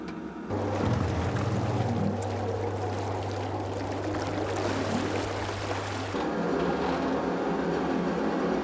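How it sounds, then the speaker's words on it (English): Submarine engines run during a dive, a steady low mechanical hum beneath rushing water noise that carries on for several seconds and then changes in tone near the end. "Engines on."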